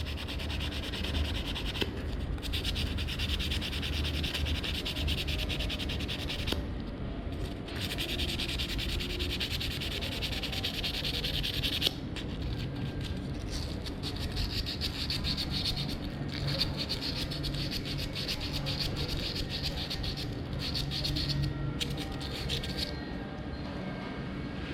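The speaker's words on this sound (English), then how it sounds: "so 320 grit sandpaper. Getting rid of the surface rust" 320 grit sandpaper rubs surface rust off a part on a Royal Enfield Himalayan motorcycle during a brake pad change, a continuous close scratchy rasping in steady strokes with brief pauses, with no voices.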